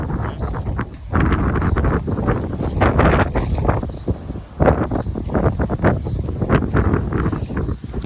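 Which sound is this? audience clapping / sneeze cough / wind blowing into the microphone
wind blowing into the microphone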